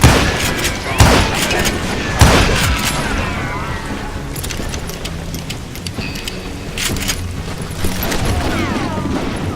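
Gunfire in the Western shooter Call of Juarez: Gunslinger, with a few loud, sharp shots early on, then scattered distant pops over a dense bed of game noise and clatter.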